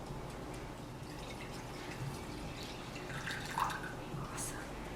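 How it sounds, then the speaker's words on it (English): Water is poured into a bowl of water beads with a soft, quiet trickle and a few drips, and a faint voice can be heard in the background. "The next thing we need is to pour our water."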